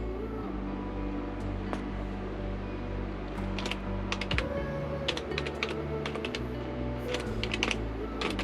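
Rapid clicking keystrokes on a computer keyboard as a password is entered, near and continuous over a steady low hum from a newly built editing computer running in an RV.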